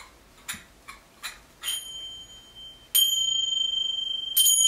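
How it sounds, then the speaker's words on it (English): Light metallic taps come first, then two bright, high ringing strikes that sustain and shimmer, close and clear. "We have finger cymbals."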